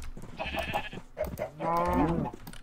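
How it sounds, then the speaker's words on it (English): Minecraft cows in the Agrarian Skies 2 modpack lowing in a few short, nasal bleat-like calls followed by a longer, louder drawn-out moo, with light game sounds around them. "But we have some cows over here."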